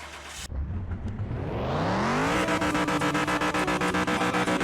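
A car engine starts in Car Mechanic Simulator 2021: a quick cranking catch, then the revs climb steadily into a loud, sustained, rough idle with pulsing throb.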